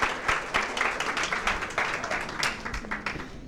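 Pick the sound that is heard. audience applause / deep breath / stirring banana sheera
audience applause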